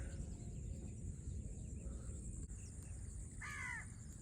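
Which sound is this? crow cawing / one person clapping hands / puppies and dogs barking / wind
crow cawing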